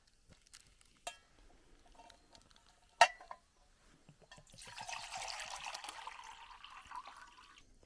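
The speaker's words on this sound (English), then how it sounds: "First, let's get some water on to boil" A few sharp clinks and knocks, then water trickling and pouring steadily into a container to be boiled for a Danish military ration, fairly quiet and close.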